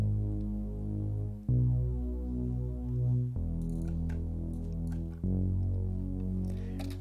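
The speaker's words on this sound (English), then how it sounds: "I have a bass sound, which I used in the breakdowns." Deep synth bass from Serum using a simple sine wave patch, sustained low tones that shift pitch every couple of seconds following chord roots, with faint ticking percussion above.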